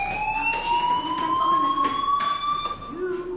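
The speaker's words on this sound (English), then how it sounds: "Hey, do you hear that fire alarm?" In Life is Strange, a fire alarm rings at a school with a steady, piercing electronic tone that drifts slightly in pitch. It stays loud and constant while a voice speaks briefly underneath.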